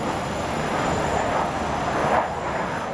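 A Sukhoi T-50 fifth-generation fighter jet with thrust-vectoring engines flies during a public display, giving a steady, loud broadband jet roar that holds for a few seconds.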